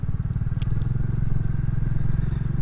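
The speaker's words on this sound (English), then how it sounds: "it's good at picking up a bit more engine noise than the mic that I was using" Royal Enfield Classic 350 engine thumps steadily in a continuous low rumble close to the microphone, with brief clattering ticks over the top.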